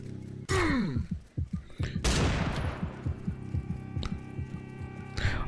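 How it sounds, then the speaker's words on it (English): Nuke weapon detonating to clear enemies in Serious Sam 4: loud percussive blasts, then a broad roaring wash that decays under scattered thuds and gunfire-like impacts, with game music tones running throughout. "Here I'm just using the nuke to clear out enemies"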